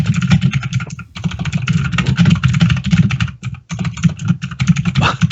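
Rapid typing on a mechanical keyboard: a dense, steady clatter of close keystrokes that runs almost without a break, pausing only briefly twice.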